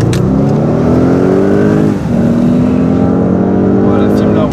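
A car in sport mode accelerates hard, its engine note climbing loudly and steadily, dipping briefly at a gear change before rising again, with someone talking over it.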